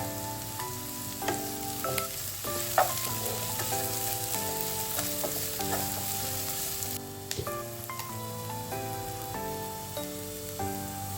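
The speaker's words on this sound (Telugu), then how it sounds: "కొంచెం ఆయిల్లో ఫ్రై అవ్వాలండి" Vegetables for jonna upma fry in oil on a medium flame, a soft, even sizzle with the occasional stir, fairly quiet and running beneath background music.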